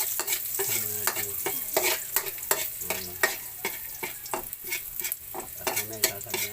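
Garlic sizzles and crackles in hot oil for shrimp chop suey, with steady frying hiss and occasional scraping as it is stirred in the pan.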